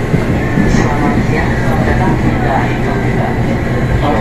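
A KRL Commuter Line electric train departing Rangkasbitung station, heard from on board as a steady, loud rolling rumble with a faint electric whine and occasional squeals over the running noise.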